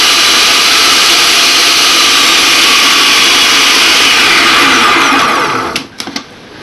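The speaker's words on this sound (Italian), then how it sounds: "Ora che ho amalgamato nel mio frullatore, impastatore, come lo volete chiamare, burro, strutto, zucchero e il pizzico di" An electric food mixer churns butter, lard and sugar into pastry dough, a loud, steady whirring drone that holds constant for several seconds, then winds down and stops with a few clunks.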